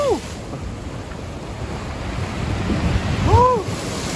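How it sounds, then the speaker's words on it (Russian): Stormy sea waves roll in against the Yalta embankment at night, a steady rushing surf with wind noise on the microphone that swells louder toward the end, while faint whistling passes overhead. "Смотри-ка, волна идет."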